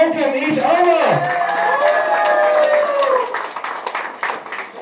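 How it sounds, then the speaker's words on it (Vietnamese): Wedding guests clap and cheer to welcome each other at a wedding ceremony, with a burst of applause and cheering under a sustained tone, thinning out into scattered claps by the end. "Can we start with a massive round of applause to welcome each other?"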